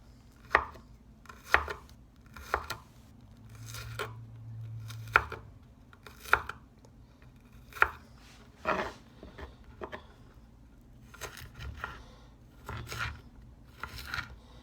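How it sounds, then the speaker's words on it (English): Knife chopping a single garlic clove on a board, a series of sharp, close taps in irregular clusters with short pauses between bursts, alone without talk. "1 clove garlic. I'll chop it up."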